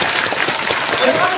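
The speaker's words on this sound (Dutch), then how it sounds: "Hard klappen." Loud audience clapping at a fan day Q&A show at Duinrell, a thick, continuous roar of hands filling the space, briefly mixed with crowd noise and a voice.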